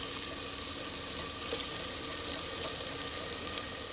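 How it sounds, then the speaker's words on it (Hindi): Masala frying in a pan for dhaba-style maash ki daal, with a steady, dense sizzle that holds at an even level throughout, close and without voices. "इसे भुनने में 3 से 4 मिनट लगेंगे।"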